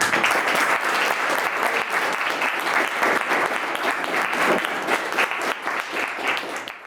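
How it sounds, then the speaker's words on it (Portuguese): Audience at a Brazilian rhythms workshop held by a town music corporation applauds a music project, with steady, dense clapping sustained for several seconds, fairly loud and close, with faint crowd voices underneath. "Mário, eu vou pedir para você e para o Kaká, para a gente dar uma salva de palmas para esse projeto, para essa galera e para o maestro Michelino"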